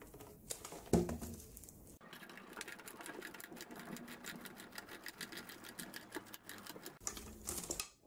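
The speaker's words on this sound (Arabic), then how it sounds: "وباستعمال مفك برغي سوف أحاول تثبيت هذا البرغي هنا" A screwdriver drives a screw to mount a computer keyboard to a desk, giving a quiet, steady stream of rapid ticking and rasping clicks for several seconds with a brief knock near the start.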